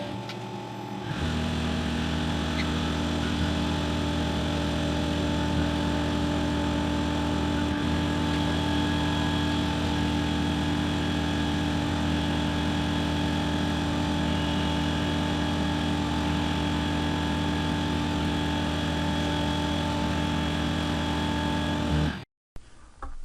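A Tormach 8L lathe machining a brass part runs as a steady, loud mechanical hum with a constant motor whine, continuous for about twenty seconds before cutting off abruptly.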